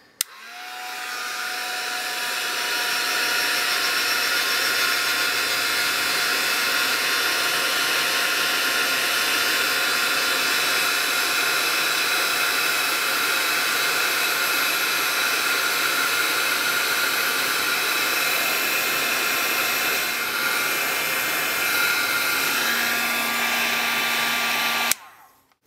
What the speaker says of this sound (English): I am just going to go ahead and heat emboss that clear embossing powder